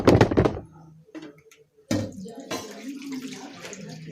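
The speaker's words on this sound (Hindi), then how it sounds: "तो बस मैं चावल धो ले रही हूँ।" Rice being rinsed by hand in water while preparing pea pulao: a loud burst of swishing and splashing at first, then a pause, then quieter sloshing and trickling water that continues steadily.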